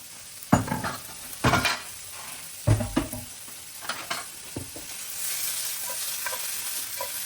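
Carrot and onion frying in a pan, with a spoon stirring and scraping through a steady sizzle; several louder scraping bursts come early, then a softer even frying hiss carries on alone.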